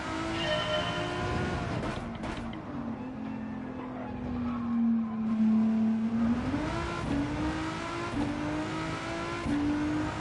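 Volkswagen GTI VGT racing on the Deep Forest Raceway in a racing video game, its engine note climbing and dropping in rhythm through quick shifts of the 7-speed gearbox, with a tire squeal or skid near the start.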